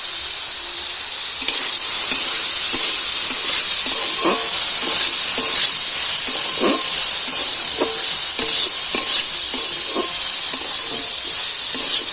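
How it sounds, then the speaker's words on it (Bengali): Chopped onion goes into vegetables already frying for egg chow mein, and a loud, close hiss swells and holds steady, with repeated spatula scrapes and knocks against the pan and no talking. "এবার দিয়ে দেব পেঁয়াজ কুচি। ভালোভাবে ভেজে নেব।"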